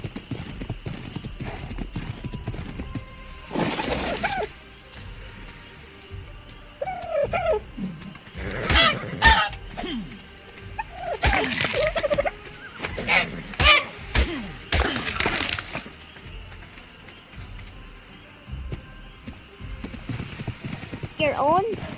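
Horse hooves clip-clop in bursts of rhythmic steps in the Ark: The Lost Island video game, starting and stopping, with occasional bird calls and a steady low background hum.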